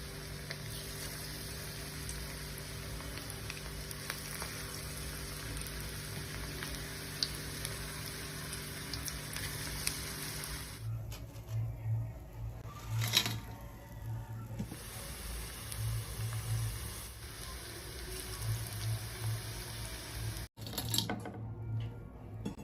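Onion and capsicum pakoda fritters frying in hot oil over a low flame: a long, steady close sizzle with crackling. It then gives way to quieter stretches of handling and clatter, interrupted by brief pauses.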